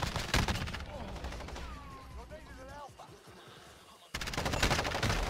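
MP7 submachine gun in Call of Duty Modern Warfare, loud rapid bursts of automatic fire at the start and end with a quieter stretch between, close and punchy over game sounds and a speaking voice.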